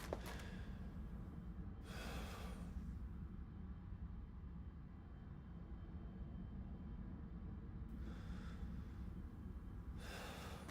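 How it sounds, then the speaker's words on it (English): Ethan in Resident Evil 7 breathes heavily in a few long, loud gasping breaths separated by pauses over a steady low background hum. "Loud breathing noises."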